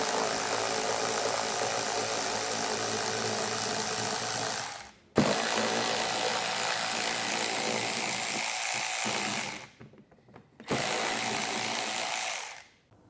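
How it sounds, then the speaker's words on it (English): Underbody panel bolts come out of a 2023 Tesla Model Y with a 10mm socket: a steady mechanical whirring runs in long bursts, separated by two brief pauses. "we'll come back around with a 10mm socket. And remove all the bolts."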